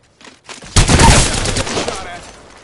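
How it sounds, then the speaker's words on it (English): Enemy gunfire in a video game: a loud, near burst of rapid shots swells and then trails off into a fading rumble, with a voice faintly mixed in. "The enemies are shooting at me."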